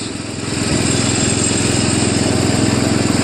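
A Craftsman LTV 10 Varidrive lawn tractor, a trash find brought back to life, its small engine idling steadily close by, the putter swelling slightly in the first half-second and then holding even.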